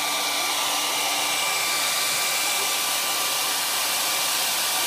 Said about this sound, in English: You like the blow dryer